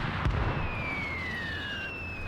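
A mortar round in the Cold War combat game Call to Arms bursts with a sharp thump, trailed by a thin descending whistle over a low battlefield rumble.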